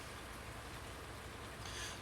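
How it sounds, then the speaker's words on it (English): Steady broadband hiss of rain falling in Farming Simulator 19 on the Ravenport multiplayer map, an even wash of drops with no talk, brightening slightly near the end. "It seems to be raining pretty good"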